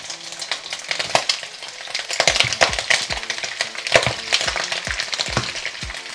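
Pork trotters spit and crackle loudly in hot oil as they are added to a caramel pan, with dense sizzling broken by sharp pops and occasional stirring clatter, close and with no talking.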